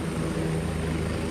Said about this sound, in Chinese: 毋那战术直升机、阿帕契直升机嘛对咧降落。